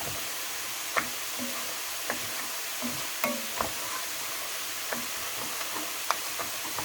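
Parboiled rice goes into a hot pan for carrot rice and sizzles softly and steadily, with scattered small pops and knocks.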